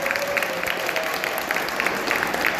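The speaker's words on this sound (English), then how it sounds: "Give these lovely ladies a nice round of applause." Audience applause for guests at a New Jersey horror convention, a steady wash of clapping heard at moderate distance with crowd noise throughout.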